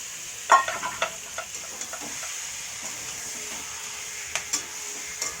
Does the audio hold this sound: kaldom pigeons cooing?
no